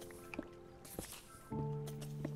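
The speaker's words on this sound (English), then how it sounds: "Oh, there's the water." Flowing water in Minecraft makes a dripping, splashing trickle that grows more prominent partway through, with steady tonal game sounds underneath.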